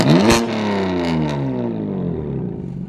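Several BMW M cars rev their engines hard in a contest during a car cruise, a loud sustained roar with rising and falling pitch that swells into a sharp burst early on, then holds steady with no talk over it.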